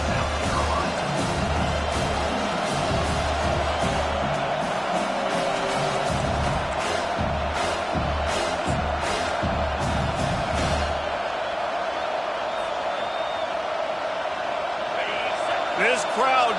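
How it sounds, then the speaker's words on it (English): A stadium crowd at a football game roars and cheers in a dense, sustained wall of noise, with a commentator's voice heard speaking over the din throughout. "This crowd knows when to bring it."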